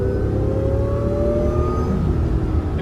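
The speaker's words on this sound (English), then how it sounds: "The classic supercharger whine never gets old when it's right behind you." Supercharger whine from a supercharged 2005 Acura NSX, a steady rising high-pitched whir over a loud, continuous engine drone, heard close up with no voices.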